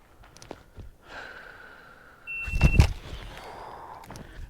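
Electronic shot timer gives a brief high beep, immediately followed by a loud gunshot and a quieter sharp pop, with faint background shuffling.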